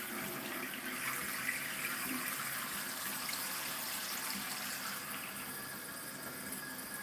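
Water runs steadily into a toilet tank being refilled after repair, a continuous rushing hiss with a faint squeal, close and alone without talk.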